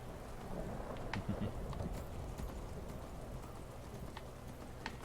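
Faint horse hooves clip-clopping in a loose rhythm in the video game Skyrim, over a soft outdoor ambience with scattered bird chirps and light patter.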